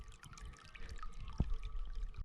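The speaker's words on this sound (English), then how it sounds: "Finally, water from a cattle trough." Water splashing steadily out of a cattle trough on a mountain trail in Val d'Aran, a close, continuous pouring and trickling with a sharper splash midway.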